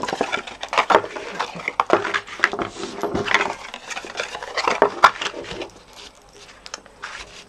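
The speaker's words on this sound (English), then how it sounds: "And this one I'm going to cut off at the fold." Card stock being cut and trimmed for a clear panel box, giving scattered crisp snips and rustling paper handling at close range, irregular and fairly loud, with no talk over it.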